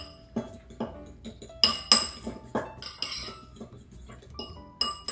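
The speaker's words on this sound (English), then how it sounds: "Mix really well." A utensil clinks and scrapes against a bowl in a quick, uneven rhythm while an olive oil marinade for rosemary chicken is mixed, with close, bright metallic taps and no talking.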